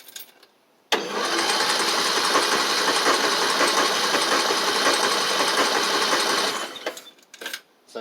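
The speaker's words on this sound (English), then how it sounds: "So it gives you about 8 to 10 seconds of cranking, as you saw" Car engine cranked by an all-in-one battery jump starter: a loud, sustained rapid churning for about six seconds, then a few brief sputters after it stops.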